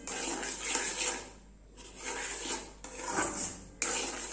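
Moong dal and jaggery sheera stirred in a pan, a steady scraping and rasping of a spoon against the pan in three long strokes with brief pauses, close and moderately loud, no talking.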